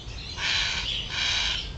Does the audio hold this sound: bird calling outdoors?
yes